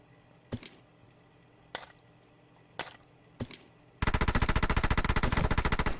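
An M4 rifle in a shooter game fires four spaced single shots, each a sharp crack with a metallic ring, then breaks into a loud, rapid, steady automatic burst lasting about two seconds.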